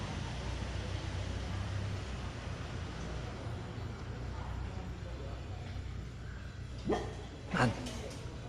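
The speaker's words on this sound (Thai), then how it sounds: "มันเห็นอะไรบางอย่างแล้วมันก็เห่าเห่าเห่าอย่างนั้นแหละเนี่ย" At a busy temple ground where people are gathering, a dog gives two short barks late in the clip, fairly close, over steady background noise and talk.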